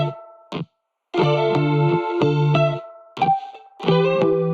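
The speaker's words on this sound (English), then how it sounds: "I put some chorus reverb together that sounds like." A distorted electric guitar riff with a shimmering chorus effect, played in choppy bursts with short gaps between chords, loud and close.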